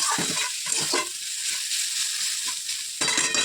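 Bitter gourd and potato frying in a pan, a steady close sizzle with a few stirring scrapes and a brief break before the hiss resumes.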